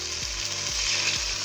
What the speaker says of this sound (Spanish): Vamos a poner el caldo.